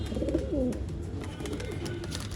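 Old-line pigeons offered for sale in Bangalore coo softly in a few low, throaty phrases over a faint background hum, close by.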